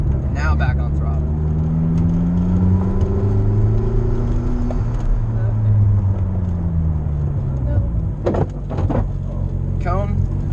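A McLaren sports car on a track course marked with cones, its engine note climbing and shifting as it comes back on the throttle, loud and steady throughout with brief bursts of voice near the end.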